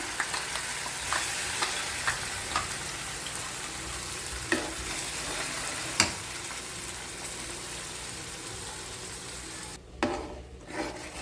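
Ground tomato sizzles and fries in sunflower oil in a pan, a steady close crackle with a few scraping stirs and soft clinks, ending in louder bubbling spatter.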